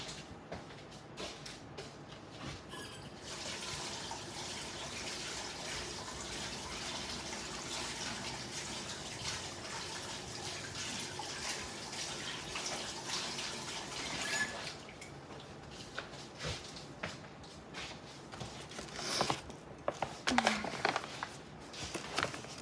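Kitchen tap water runs steadily while hands are washed, a close continuous rushing stream with a few brief splashes and clatters near the end, and faint talk at moments.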